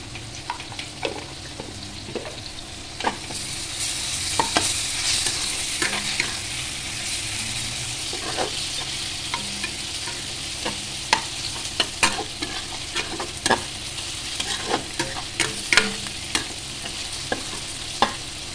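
Potatoes frying in a pan with a constant close sizzle, punctuated by frequent scraping and clinking strokes as a spatula stirs them repeatedly, growing busier toward the end.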